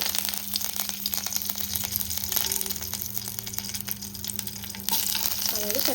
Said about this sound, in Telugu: ఆయిల్ వేడయ్యాక ఒక స్పూన్ పోపు దినుసులు వేసుకుందాం ఆవాలు చుట్టుపట్లాడిన తర్వాత కొద్దిగా కరివేపాకు